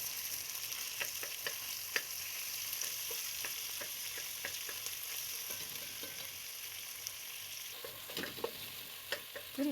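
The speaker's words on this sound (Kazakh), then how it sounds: "Қызып тұрған майымызға пиязымыз салып," Onions frying in hot oil while a Kazakh dish of flour and meat is cooked, a steady sizzle with scattered crackles and pops, close and alone.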